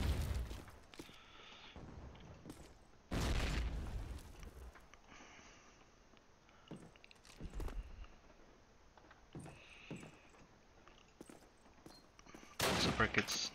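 Grenade blasts and gunfire in a tactical team shooter match on a railyard or town map, with several loud broadband bursts standing out from quieter scattered shots and background game noise, no talk.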